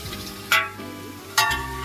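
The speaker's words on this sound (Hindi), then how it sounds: "ये तड़का बनने जा रहा है आलू की सब्जी के लिए" Oil sizzles and fries steadily in a pan as a tadka is tempered and gravy cooks for a potato curry, with two sharp bursts of spattering as ingredients hit or are stirred, close and without talk.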